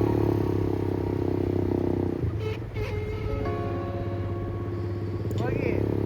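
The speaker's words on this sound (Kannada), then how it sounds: "ನಾವು ಬೈಕ್ ರೈಡಿಂಗ್ ತೊಗೊಂಡ್ವಿ" A motorcycle ridden along a seaside road near Puri drones loudly and steadily for about two seconds, then carries on more quietly beneath people talking.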